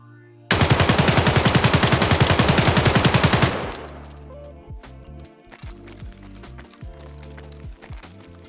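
An AK74M rifle in Escape from Tarkov fires one long, loud full-auto burst of rapid, evenly spaced shots lasting about three seconds, then it stops and tails off into a quieter reverberant decay with scattered clicks and handling noises.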